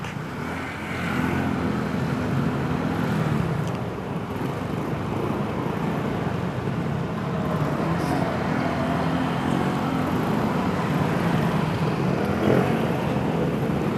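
Road traffic rumbles near the Marilao station construction site, where steel forms are being lifted and blocking the road; a dense, continuous low roar of engines and passing vehicles holds steady without pause.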